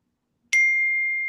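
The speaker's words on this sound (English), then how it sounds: "Somebody's ringing a bell here." A single bell struck in a television studio rings out once after a moment of silence, a bright clear ding that sustains and slowly fades, close and alone.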